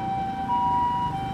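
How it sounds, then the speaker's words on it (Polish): Ambulance siren on a road in Japan, a steady tonal wail holding one pitch and briefly shifting higher, heard over car engine and traffic rumble, with no voices. "A teraz z jaką prędkością jeżdżą karetki na sygnale w Japonii?"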